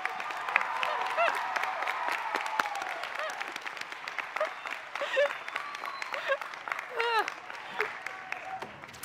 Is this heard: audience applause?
yes